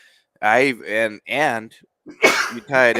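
A single sharp, breathy sneeze bursts out in the middle of a podcast conversation between people talking at close range.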